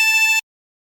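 A single drawn note on a 24-hole tremolo harmonica, breath pulled in through hole 14, steady and bright with a slight wavering shimmer, lasting under half a second before stopping abruptly into silence.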